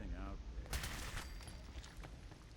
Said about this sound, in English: Oh, I blew up the turret.